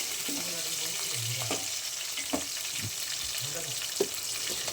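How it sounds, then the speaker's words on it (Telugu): Onions fry in a pan for a curry, a steady close sizzle with occasional clicks of a spoon, and faint voice-like sounds in the background. "ఈ ఆనియన్స్ అయితే బాగా వేగిన తర్వాత కరివేపాకు కూడా వేసుకోవాలి."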